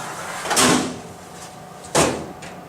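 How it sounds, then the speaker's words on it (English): The door of an Insinger Commander 18-6 commercial dishwasher closing to start a cycle gives two sharp, close bursts about a second and a half apart, followed by a steady background noise. "To simply start a cycle, just close the door and the machine will begin to run through its normal cycle."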